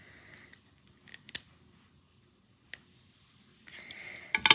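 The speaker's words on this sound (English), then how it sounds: "so I have these little bitty scissors that I use for cutting open packages" Small scissors snip at a package in a quiet room, a handful of sharp, isolated clicks and cuts scattered across the moment, with a short rustling burst toward the end.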